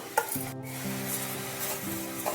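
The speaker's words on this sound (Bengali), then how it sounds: "আনাজপাতির সাথে ভালোভাবে সিমাইটাকে নেড়ে নিতে হবে।" Fried vermicelli (simai) is stirred with sliced vegetables and tomato in a pan, giving scraping, shuffling strokes over a constant sizzle, close and without speech.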